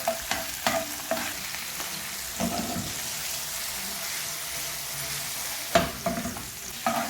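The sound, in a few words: garlic ginger paste frying in oil, stirred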